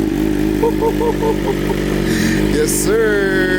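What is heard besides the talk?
BMW M1000RR motorcycle engine revving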